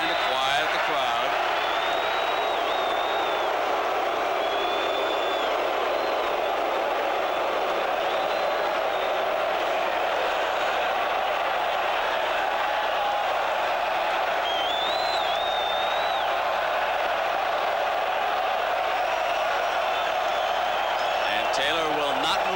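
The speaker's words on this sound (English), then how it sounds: "The defense trying to quiet the crowd" A loud, constant roar from a huge college football stadium crowd at a 1988 Michigan at Notre Dame game, filling the background under a play-by-play announcer's voice.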